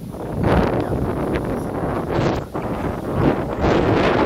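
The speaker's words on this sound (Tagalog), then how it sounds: "Ang background natin ay ihip ng malakas na hangin" Strong wind roars steadily across the microphone in gusty waves, buffeting loudly with no voices.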